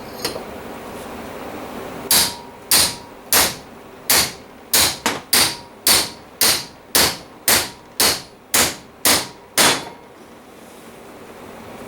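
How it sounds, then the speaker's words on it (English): A big hammer pounds a cut length of 2-inch gas pipe to drive a bearing on during an ARB air locker install: fifteen loud, sharp metallic blows at a steady, quick rhythm, close up, then silence. "a big hammer"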